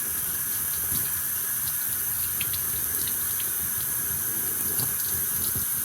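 Steady running water from a tap or hose while lawn statues are washed out, a constant close hiss with light splashing and a few faint clinks over it, no voices.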